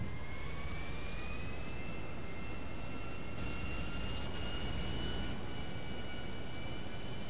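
An airplane engine drones in a video game, a steady jet-like whine and roar held at an even level for several seconds, fairly quiet and with no voices over it.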